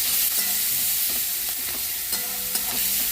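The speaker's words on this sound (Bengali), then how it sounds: "পেঁয়াজটা হালকা করে ভেজে নেবো।" Onions with green chilli frying in mustard oil make a steady, close, bright sizzle throughout, broken by a few soft stirring clicks and pops.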